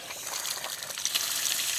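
Water rushes steadily from a newly installed outdoor faucet hose bib, a continuous hissing splash that stays close and even, with no voices.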